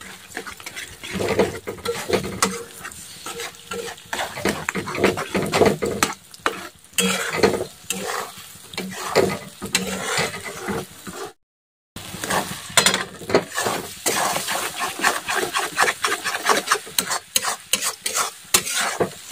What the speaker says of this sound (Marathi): आता छान असं मिक्स करून घेऊ